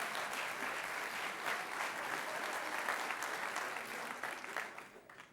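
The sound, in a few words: audience applause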